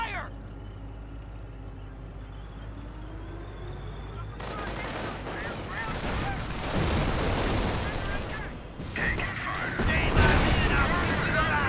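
Company of Heroes gunfire as a US sniper opens up: quiet battlefield hum, then from about four seconds dense, loud bursts of shots and blasts continue to the end, with a voice speaking over the start.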